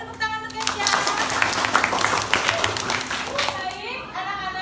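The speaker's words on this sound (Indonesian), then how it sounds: "Boleh tepuk tangan untuk Keisha." Students in a classroom clap for a classmate, a dense burst of applause lasting several seconds, with children's voices chattering over it and an adult voice near the end.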